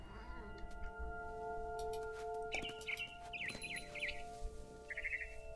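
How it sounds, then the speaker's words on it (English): A barn swallow chirps in the video game What Remains of Edith Finch, giving a few bright, quick warbling calls in the second half over steady, sustained background music. "It was a barn swallow going back to her nest."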